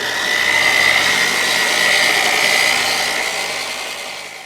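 A car polisher buffs the paint of a 1967 Mustang fastback with a high-cut McGuire's compound, giving a loud, steady, close whine that holds even throughout and eases slightly toward the end.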